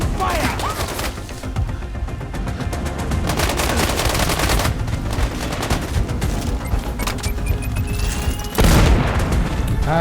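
Gunfire in Sniper Ghost Warrior Contracts comes as dense, loud bursts of shots and booms crowding the whole stretch, with a heavier blast near the end.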